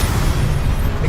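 The Incendio fire spell in the video game Hogwarts Legacy erupts as a loud, dense, roaring blast of flame that holds steady for about a second.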